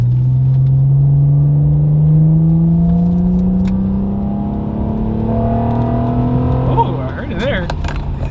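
Second-generation Acura TL with a cold air intake pulls through a VTEC run, the engine note rising steadily and loudly before easing off amid traffic noise; people talk briefly near the end.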